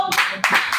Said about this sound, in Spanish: Dígale un aplauso al Señor